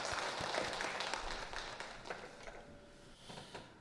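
Crowd applause from a sizeable church congregation at a Wednesday prayer service, steady and fairly close, fading slightly toward the end with scattered claps.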